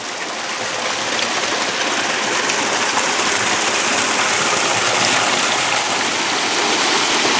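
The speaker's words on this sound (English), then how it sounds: "This is a beautiful example of the hand-fashioned ways of streaming the spring water down." Spring water rushing down hand-built stone channels at the springs of Nossa Senhora da Piedade, a loud, close, continuous splashing stream with no talk over it.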